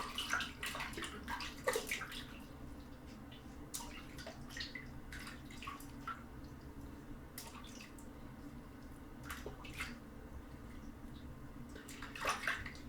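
Running tap water splashes softly during a post-shave rinse, a faint, steady trickle with scattered drips and small splashes throughout.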